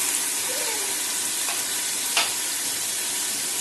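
Tomatoes and spices go into a hot pressure cooker for aloo gobi and fry with a steady, even sizzle and a brief clatter of stirring, fairly quiet throughout.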